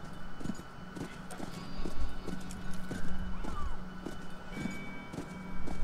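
A horse whinnies and its hooves clip-clop at a steady walking rhythm in the Western game Call of Juarez: Bound in Blood, close and clear over a low ambient hum.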